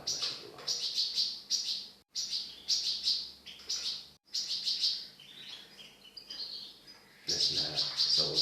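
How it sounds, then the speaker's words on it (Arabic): Goldfinch chicks calling from the nest during the breeding season, a run of thin high chirps repeated in quick bursts with short pauses between them, fairly close and continuing steadily throughout with no talking. "نسمع صوت الفراخ تنادي"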